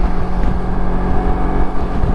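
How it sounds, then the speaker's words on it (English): A LIFAN KPT 400cc motorcycle pulling hard at high revs, its engine a steady, loud, dense drone with wind rush and no pauses, recorded up close from the rider's position. "This bike really likes the high RPMs, it seems like."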